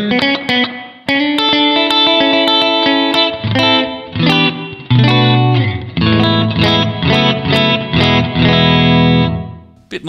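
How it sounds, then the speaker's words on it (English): Clean electric guitar on both pickups, through a Fender Marine Layer reverb pedal's room setting, plays chords and single notes with a moderate room reverb giving a studio-like ambience, loud and steady throughout. "Let's move to the room variation number one, which is kind of like a studio type of reverb"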